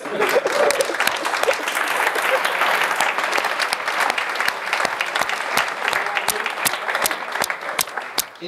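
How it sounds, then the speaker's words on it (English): Audience applause at a 2016 sponsors session, a dense steady roar of many hands clapping with sharp individual claps standing out, loud and sustained throughout. "Please give them a warm applause."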